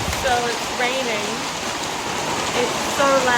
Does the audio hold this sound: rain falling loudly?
yes